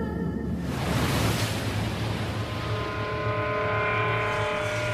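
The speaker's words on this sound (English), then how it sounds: "From out of nowhere, massive waves slammed ashore." Massive ocean waves slamming ashore in a tsunami striking the coast of Japan, a continuous loud roaring wash of surf with broad rushing noise, no voices.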